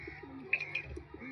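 A female white-faced Giribaz pigeon coos softly in a brief, low murmur against faint background hiss and a few light clicks.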